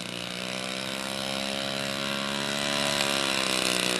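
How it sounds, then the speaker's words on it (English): A 25-year-old Interstate Cadet radio-controlled model plane in flight, its small engine giving a steady, buzzing drone that grows slightly louder and holds for the whole stretch with no voices. "A 25-year-old plane still flying."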